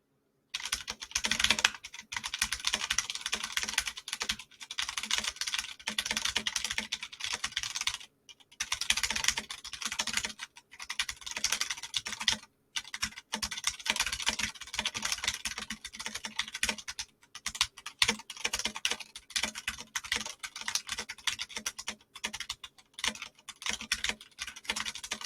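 Rapid, steady keystrokes on a computer keyboard during a typing test, clattering close and clear for the whole stretch with a few brief pauses, and no talking.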